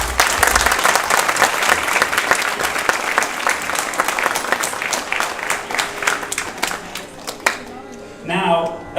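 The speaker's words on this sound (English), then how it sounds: "Let's give a big round of applause." Audience applause fills the hall after a saxophone and flute arangetram performance, a dense, steady patter of many hands clapping close by, thinning out toward the end as a voice and a few stray sounds emerge.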